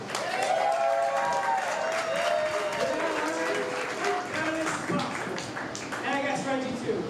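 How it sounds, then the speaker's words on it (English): Crowd applause and some cheering welcome wrestler Miss Rosewood at a live wrestling show, loud and steady throughout, with voices and a tonal presence mixed in over the clapping. "please give a big round of applause for Miss Rosewood"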